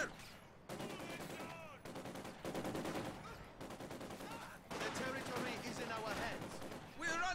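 Machine gun fire in a competitive real-time strategy match, a series of rapid bursts with short pauses between them, mixed with other gunfire under continuous commentary from a caster.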